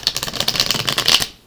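Tarot cards being shuffled by hand, a quick close run of papery flutters and soft clicks that fills about a second and a half before stopping.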